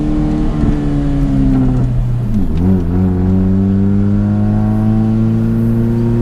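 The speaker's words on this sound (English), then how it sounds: "Give it a lot of gas." A manual stick-shift car pulls away under heavy throttle, its engine roaring up close. The revs climb, dip sharply around a gear change, then rise steadily again as the car gathers speed.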